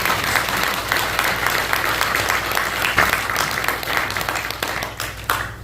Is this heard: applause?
yes